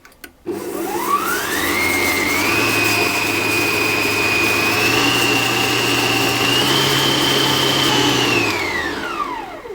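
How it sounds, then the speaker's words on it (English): An electric hand whisk runs steadily as it beats whoopie pie batter until combined and fluffy, its motor whine rising as it starts, holding level for several seconds, then winding down at the end, loud and close with no talking. "I'm going to whisk that until it's all combined and quite fluffy."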